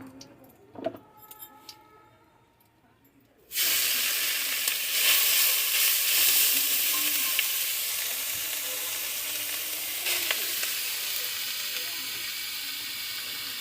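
After a few quiet clinks of handling, carrots for carrot halwa drop into a hot pan and burst into a sudden loud, steady sizzle that carries on evenly, with an occasional stir scraping through.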